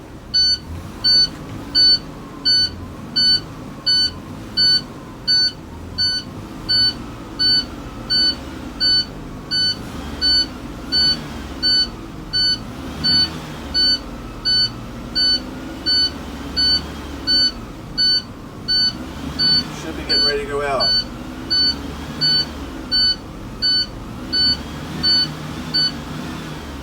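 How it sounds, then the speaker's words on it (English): A bus low air pressure alarm beeps, steady and high, repeating about once per second over a low engine rumble during a pre-trip inspection. A voice speaks briefly near the end. "I want to build the pressure up to 60 to get the alarm and the low pressure air light to go off"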